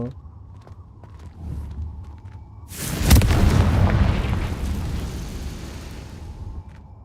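A Confringo spell explosion in Hogwarts Legacy, a sudden loud boom bursting in mid-clip and rumbling away over a few seconds, with quieter game ambience before and after.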